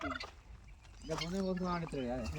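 A turkey gobbles loudly and close by in a rural family yard near Warangal, with quieter rustling at first before a sustained, warbling gobble fills the last half.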